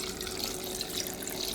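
Carrot and daikon pieces tipped into a bowl of pickling liquid for banh mi, giving a steady close wash of splashing and trickling water that runs the whole moment and cuts off abruptly at the end.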